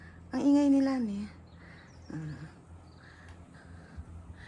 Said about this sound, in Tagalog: Narinig yung mga ibon? Ang ingay nila, eh.